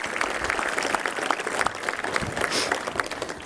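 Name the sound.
audience applause for an award recipient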